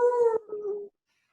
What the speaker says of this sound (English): We hear a howl.